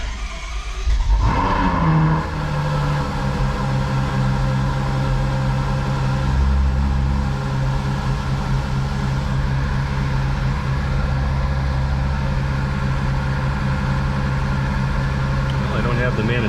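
Ferrari FF V12 engine cranking and catching after a lithium battery swap, a short starter burst followed by a loud, steady idle that drones on close by with slight variations.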